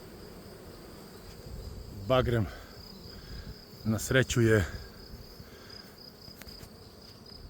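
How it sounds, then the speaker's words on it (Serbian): Honeybees work busily at an apiary the day before Easter, giving a steady, fairly faint insect hum throughout while someone speaks over it in short bursts. "Pčele rade punom parom."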